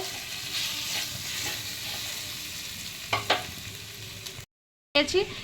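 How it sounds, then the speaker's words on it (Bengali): Pieces of mutton in curd with spices and a little ground cumin sizzle and fry in a pan, steady and close. A few scraping stirs break through, followed by a brief silence and then more stirring. "এবার আর একটু ভালো করে কষিয়ে নেব"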